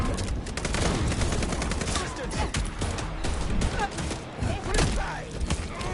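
Rapid bursts of gunfire fill a combat scene in the video game Vampire: The Masquerade - Bloodlines 2, dense overlapping shots with thuds and clatter running nearly continuously, loud and close, with brief shouted voices mixed in.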